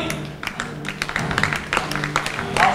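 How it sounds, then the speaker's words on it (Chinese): Applause at an Adidas press event welcoming basketball player Jeremy Lin, scattered irregular clapping from a modest crowd mixed with murmuring voices and a few taps. "接下来我们就用最热烈的掌声来欢迎林书豪 Jeremy 莅临"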